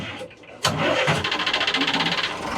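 A boat engine cranks briefly, then catches and runs with a fast, even pulsing beat, loud and close by, with no voices.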